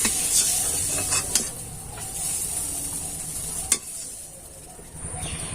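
A potato filling fries in a pan while being stirred, with a steady close sizzle and hiss broken by a few sharp scraping clicks from the spoon.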